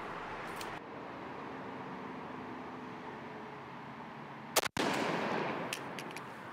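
A Winchester SXP shotgun fires a Crusher No. 9 TSS turkey load outdoors at 60 yards: steady background rumble, then one sharp, loud blast followed by a long rolling echo.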